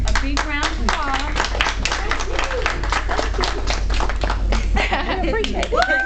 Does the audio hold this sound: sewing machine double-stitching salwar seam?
no